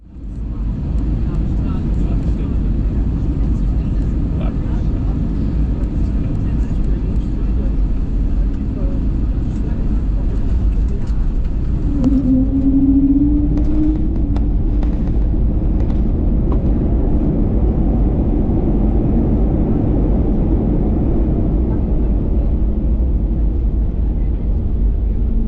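Steady loud roar inside a Lufthansa A321neo cabin during landing at Porto, with a low engine rumble throughout and a brief rising whine near the middle.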